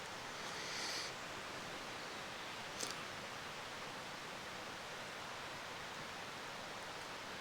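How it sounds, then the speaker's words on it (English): Steady, broad rushing of a creek beside a quiet campsite in Pine Creek Valley, an even wash of water noise throughout with a brief small knock near the middle and nothing else over it. "all you hear is that creek"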